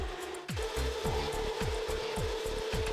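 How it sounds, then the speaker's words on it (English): A CNC double-mitre bandsaw cuts through steel flanges at high feed speed, giving a steady loud grinding rasp with a sustained tone and a repeating rhythmic chatter of blade teeth, close and continuous with no talk. "While sawing the flanges, there is a high feed speed."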